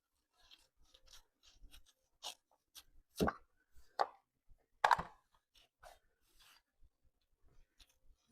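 A piece of decoupage paper cut by hand: a sparse series of short, crisp snips and crinkles, close up, with quiet pauses between them and no talking.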